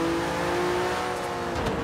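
A car engine in Forza Horizon 3 drones steadily at a constant pitch, loud and close, with a brief rise in revs near the end and no talk.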